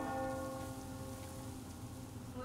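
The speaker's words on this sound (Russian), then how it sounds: "Слышишь, колокол?" In the Metro Exodus video game, a bell rings faintly in the distance, its low sustained tones blending into a soft, rain-like background hiss.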